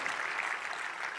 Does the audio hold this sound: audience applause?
yes